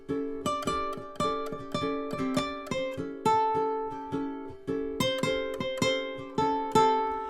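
A ukulele plucks the same note over and over in a quick, steady rhythm, each pluck ringing briefly, close and clear with no voices.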